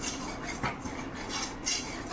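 A spoon scrapes and stirs gram flour batter in sugar syrup for Mysore pak, giving a soft, steady rasping with a few metallic clinks against the pan, quiet and close with no talk.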